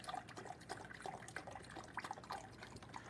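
Beef broth is poured into a measuring cup until it is about half full, a close, steady liquid trickle and splash with small drips throughout and no talking.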